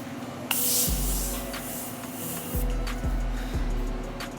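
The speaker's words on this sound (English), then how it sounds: "That's setting spray, guys." A long, steady hiss of an aerosol makeup setting spray sprayed on a face lasts about two seconds, followed by low rhythmic thumps and a faint hum.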